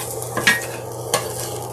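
Bacon, peppers and onions frying in a pan, with a steady sizzle and two brief scraping stirs of a utensil against the pan, close and without talk.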